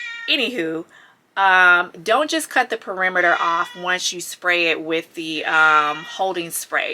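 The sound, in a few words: cat meowing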